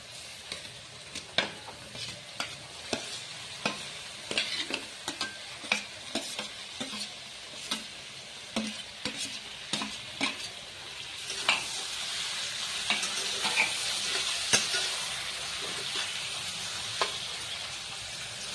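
Taro stolons and whole garlic fry in a pan with a soft continuous sizzle, broken by frequent scraping stirs and clinks of a utensil, close and fairly quiet, with no talking.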